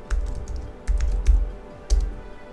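Typing on a computer keyboard comes in short, close bursts of quick key clicks separated by brief pauses; no talking.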